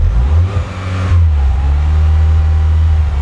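A Mitsubishi Lancer Evolution engine rumbles loud and close, revving up, then slowly sinking back toward a steady idle.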